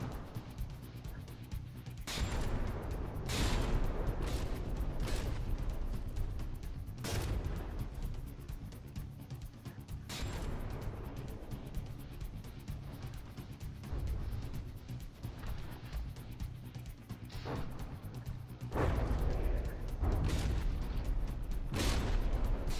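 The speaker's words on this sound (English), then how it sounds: "these explosive shells seem to have enough punch to them to really rip these turrets apart if they land" Explosive shells slam into warships in the naval combat game From the Depths, giving repeated sharp booming impacts at irregular intervals over a constant low rumble of battle.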